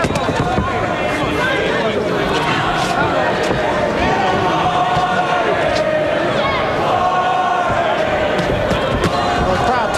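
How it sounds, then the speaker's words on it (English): A boxing arena crowd at a heavyweight bout chants in a loud, steady, rhythmic roar that fills the space, with a commentator's voice running over it. "the crowd takes up a chant of boring, boring"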